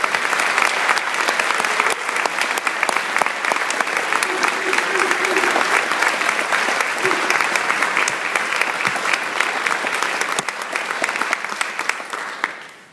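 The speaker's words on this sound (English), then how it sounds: "give you another round of applause and congratulations on graduation" Sustained audience applause at a high school academic awards ceremony, honoring graduating students; dense, steady clapping fills the whole stretch at a strong, even level before tapering slightly at the end.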